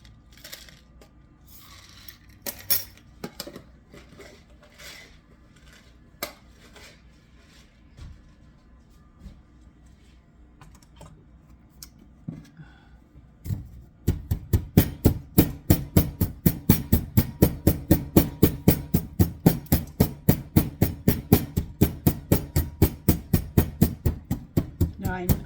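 Black peppercorns, a tablespoon, pounded with a mortar and pestle: a few scattered light knocks, then a long run of rapid, steady, loud thuds that continue to the end.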